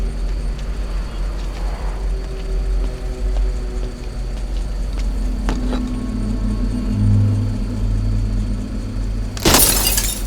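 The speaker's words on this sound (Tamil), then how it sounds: "ஒரு கல் எடுத்து கண்ணாடி உடைங்க" A car window smashed with a stone shatters in a sudden loud burst near the end, after several seconds of low rumbling ambient noise.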